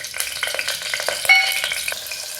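Whole spices and green chillies fry in hot oil in a cooker, giving a close, steady crackling sizzle with scattered sharp pops and no voices.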